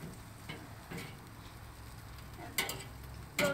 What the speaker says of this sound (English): I'm going to put this onion.